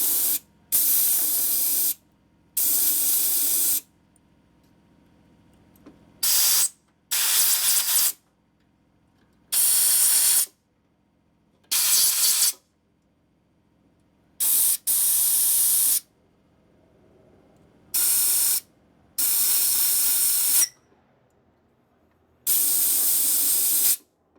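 A garden hose sprays water in repeated bursts of a second or two, separated by quiet gaps, while washing parts from a 2011 Harley-Davidson Road Glide Twin Cam engine repair.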